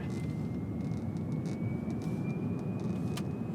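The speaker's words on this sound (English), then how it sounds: "The whine on this is different than the other ones." A steady high-pitched electric motor whine rises faintly over road and tire rumble inside a moving Tesla Cybertruck, with a few soft clicks and no voices.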